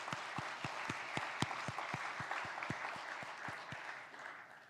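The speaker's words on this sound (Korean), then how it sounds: "우리 찬양대원들에게 격려 박수하겠습니다." A church congregation claps for the choir at a Sunday service, a steady rhythmic beat of roughly fifteen sharp, even claps over a dense bed of crowd applause, full and close.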